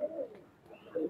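Close, throaty cooing from Pakistani highflyer pigeons kept in a Khulna loft, one call at the start and another at the end with a quieter gap between.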